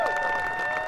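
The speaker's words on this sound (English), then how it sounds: "Give them a round of applause again." Audience applause and cheering for the pilots at the homecoming of VSS Unity after its second supersonic flight, a steady, dense wash of clapping from a crowd with a sustained tonal whine running underneath.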